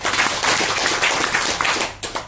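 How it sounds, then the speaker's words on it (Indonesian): A church congregation claps for God in a dense, sustained round of applause at a service. The many hands patter evenly throughout and thin out near the end. "Tepuk tangan dulu bagi Tuhan."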